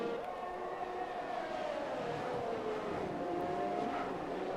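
Glitched race car engine RPM sound in F1 2021 at the Azerbaijan Grand Prix, a steady droning whine with sliding pitch that holds at a fairly constant level, heard alone without talk.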